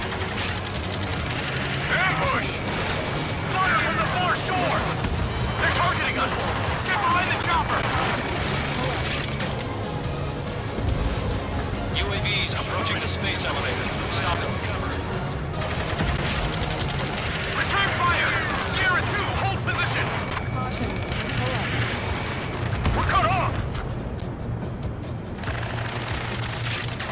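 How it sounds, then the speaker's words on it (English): Ambush gunfire from the far shore in the combat flight game Ace Combat 7, with dense, continuous bursts of shots and booms layered over loud game sound for the whole span, while radio voices talk over it. "Ambush! Fire from the far shore! They're targeting us!"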